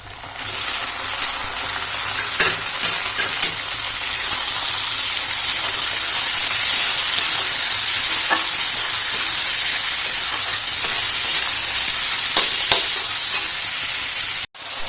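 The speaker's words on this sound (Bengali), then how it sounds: "তো এটা তেলের মধ্যে তো মোটামুটি মাংসগুলো একটু তেলের মধ্যে ভাজা ভাজা হচ্ছে।" Chicken mince stirred and fried in oil over browned onions in a large kitchen, a loud continuous sizzle with a few spatula scrapes throughout, no voices.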